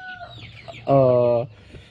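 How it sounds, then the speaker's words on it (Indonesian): Free-range village chickens around two months old cluck in a single loud, sustained call of about half a second, close by over a quiet farmyard background. "ini ayam kita sudah umur 2 bulan"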